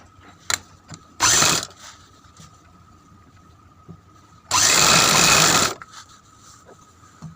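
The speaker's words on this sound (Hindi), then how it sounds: "इसमें आधा इंच का दबाव देते हुए हमें सिलाई लगानी है" A sewing machine stitches a Patiala salwar seam in two separate runs, first a short whirring burst and later a longer steady rattling run, with faint handling clicks in between.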